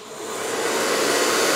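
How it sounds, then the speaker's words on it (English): A hair dryer fitted with a diffuser and set to low blows a steady, loud airy whoosh that swells slightly at the start and then holds even for the whole short stretch. "I have a diffuser on the hair dryer."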